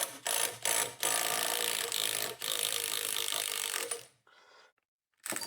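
A power tool zips off a 30 millimeter nut during a 2015 Ski-Doo snowmobile short block teardown, giving loud rattling mechanical bursts with brief gaps, one long run of about three seconds, then a short trailing whir and a final burst.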